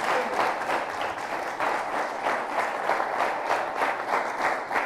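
A church congregation claps in applause, a sustained dense wash of hands at steady volume with a rhythmic pulse running through it, no voices above it.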